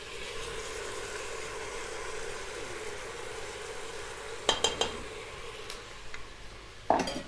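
Onions and tomato paste fry in a pot for an aloo mutton curry, giving a steady low sizzle with a few sharp spoon-against-pot clacks as the mixture is stirred.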